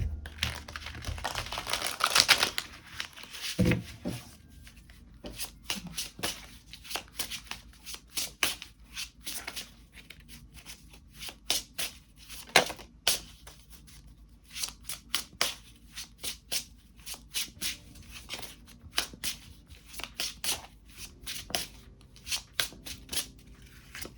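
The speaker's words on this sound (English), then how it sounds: "we'll shuffle all the cards and get them out on the table" Tarot cards being shuffled by hand for a pick-a-card reading: a long run of crisp, rapid riffling and flicking bursts, close and fairly quiet, with no talking.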